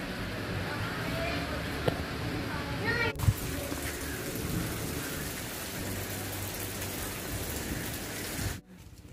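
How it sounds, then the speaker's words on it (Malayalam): Light rain falls outside a home as a steady, soft patter and hiss that continues throughout. A couple of brief knocks and a clunk sound partway through, and the rain cuts off abruptly near the end. "പുറത്ത് ചെറുതായിട്ട് ഇങ്ങനെ മഴ പെയ്യുന്നുണ്ട് കേട്ടോ"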